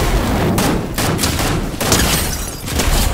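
Rapid bursts of gunfire from rival players in a battle-royale match ring out loud and dense, overlapping shots rattling almost continuously across the moment.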